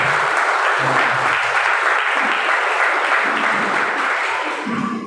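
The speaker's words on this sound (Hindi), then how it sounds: "क्यों ना परमेश्वर की आराधना करके जोरदार ताली बजाएं" A church congregation at a Hindi Sunday evening service claps loudly in praise, a dense and steady wall of applause that runs unbroken for about five seconds.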